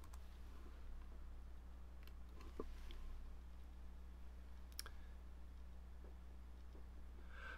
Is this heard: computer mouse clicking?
yes